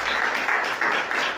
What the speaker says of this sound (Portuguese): Quem crê pode aplaudir, pode glorificar.